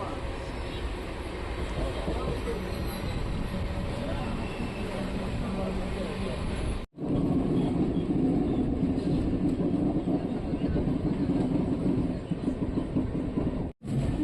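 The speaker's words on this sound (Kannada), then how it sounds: "ಕೊಚ್ಚುವೇಲಿಯಿಂದ ಮೈಸೂರಿಗೆ ಹೋಗೋ ಟ್ರೈನು ಕ್ರಾಸಿಂಗ್ ಆಗ್ತಿದೆ ನಮ್ಮ ಮೆಜೆಸ್ಟಿಕ್ ಔಟರಲ್ಲಿ" A Kochuveli–Mysore passenger train rumbles past nearby outside Bengaluru Majestic, heard from another train, with a steady, loud roar and faint rhythmic clatter, continuous across the whole stretch with brief gaps.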